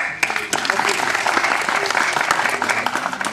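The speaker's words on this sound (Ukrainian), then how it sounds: "Льоша, браво! Оплески!" A seated audience claps in steady, dense applause that runs throughout the moment, evenly loud and close, with a few sharper individual claps standing out.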